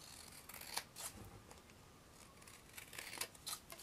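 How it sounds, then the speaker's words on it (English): Scissors trimming the edge of a paper specimen card, a few quiet close snips and paper rustles in a short, soft burst. "I'm going to do just a tiny trim here because my edge went the tiniest bit over"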